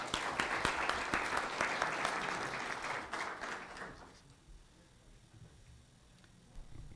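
An audience at a privacy and security forum applauds, a dense burst of clapping that holds for a few seconds and then fades away to quiet.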